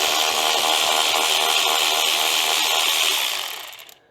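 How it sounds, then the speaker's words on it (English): An electric ratchet drives small 2 mm bolts during an oil catch can install on an Alfa Romeo Giulia. It makes a loud, continuous motor whir for about three seconds, then winds down and stops. "Y'all know I like my electric ratchet."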